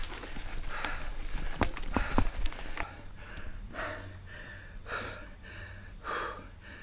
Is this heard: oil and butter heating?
no